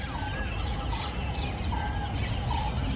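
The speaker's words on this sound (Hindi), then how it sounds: "मोरों के चहकने की आवाज़ें, दूसरे जितने भी पक्षी हैं उनके चहकने की आवाज़ें आपको सुनाई दे रही होंगी" Peacocks and other birds calling outdoors, several loud wailing cries at intervals over a dense background of chirping and ambient noise, with no talking.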